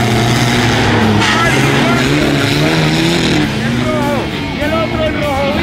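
A loud 4x4 off-road truck engine with four cylinders revs and accelerates hard at a national championship race in Panama, pitch climbing and shifting, with a fast Spanish-speaking announcer talking over it throughout.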